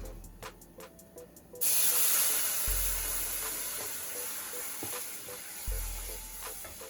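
A sudden loud hiss and sizzle erupts as a cup of boiling water hits a hot pan, then settles into steady bubbling crackle with occasional clinks nearby.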